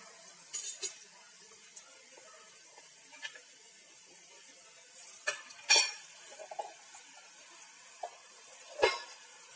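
Mullu murukku fried in hot oil gives a faint, quiet sizzle, broken by scattered metallic clinks and scrapes of a utensil in the pan.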